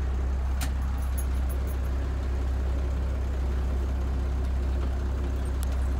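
A converted skoolie school bus engine running, a loud, steady low diesel rumble with faint higher rattles on top and no pauses.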